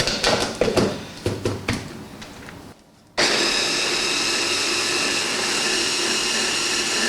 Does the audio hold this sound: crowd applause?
no